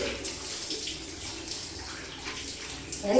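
Water poured over a newborn baby during a bath, a continuous soft splashing flow, close and steady, with a brief louder surge at the end.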